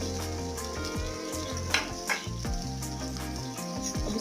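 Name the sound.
onions and whole garam masala frying in oil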